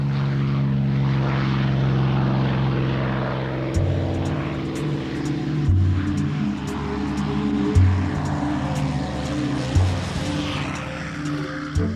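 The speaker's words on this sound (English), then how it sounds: "the success of these pilots in World War II still resonates amid the growl of their" A North American P-51 Mustang fighter from World War II, its piston engine giving a loud, steady propeller drone that shifts and pulses as the aircraft passes, with no voices.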